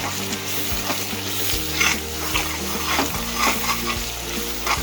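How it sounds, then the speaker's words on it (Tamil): Gongura (sorrel) leaves frying in oil are stirred continuously in a pan, giving a steady, close sizzle with repeated scraping strokes throughout and no talking. "கை விடாமல் கிளறிட்டே இருக்கும். எண்ணெய் கீரை எல்லாமே மிக்ஸ் ஆகும்."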